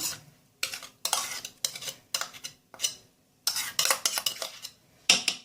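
Crushed garlic cloves and red pepper stirred together with a spoon in a dish, a quick run of close scraping, clinking strokes in short bursts with brief pauses between them.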